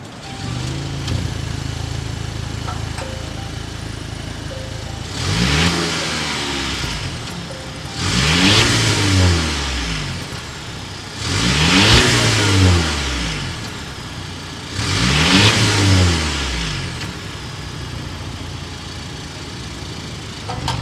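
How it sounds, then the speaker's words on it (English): A 2023 Volvo XC60 B5 mild-hybrid engine revs in four distinct bursts over a steady idle, each blip rising and falling with a deep exhaust note, close and loud. "start it up so you can hear that exhaust note"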